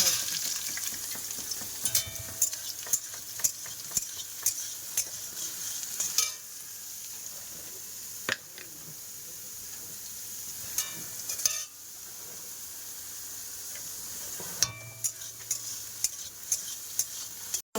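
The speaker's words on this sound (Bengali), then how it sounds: "সয়াবিন ভাজা" Soybean chunks fry in a pan with a steady sizzle, broken by frequent sharp clinks and scrapes of a spatula stirring against the pan, close up and without talking.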